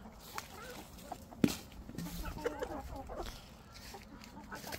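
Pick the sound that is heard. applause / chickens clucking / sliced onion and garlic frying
chickens clucking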